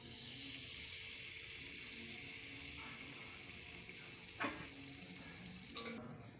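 Red oil sizzling in a pot while cooking pumpkin leaf sauce, giving a steady hissing fry throughout, fairly close, with a few faint clinks of stirring near the end.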